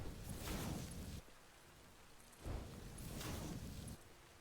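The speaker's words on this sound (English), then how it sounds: "moment of silence to just listen to the rain" Rain falls steadily in the video game Satisfactory, a constant hiss with rumbling swells that rise and fade, heard alone without talk.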